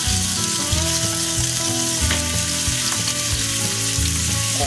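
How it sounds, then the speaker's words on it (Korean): Meat stir-frying in a pan for a Japanese-style egg-topped pork dish, with a loud, continuous close sizzle and a rhythmic series of spatula strokes scraping the pan, no talk. "고기를 넣어주세요. 넣고 살살 볶아주세요."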